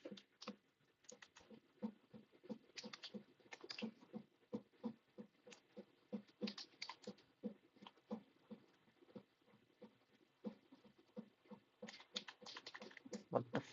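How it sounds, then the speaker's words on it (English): Typing on a computer keyboard, close and fairly quiet, irregular bursts of rapid key clicks with brief pauses between runs, continuing steadily throughout. "Why are you typing it?"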